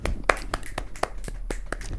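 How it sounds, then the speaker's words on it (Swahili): A few people clapping nearby, about nine sharp, evenly spaced claps in a quick, steady rhythm. "Makofi"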